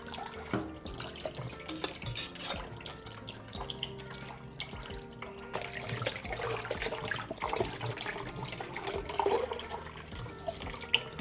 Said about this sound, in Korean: 요거 이제 이쪽에 가져가서 찬물에 바로 헹궈 줄게요.